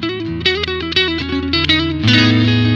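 Umeda ST-20 electric guitar played through its neck single-coil pickup, with a loud run of plucked melodic notes and chords carrying a processed, effected tone that ends on a sustained ringing chord, with no talking.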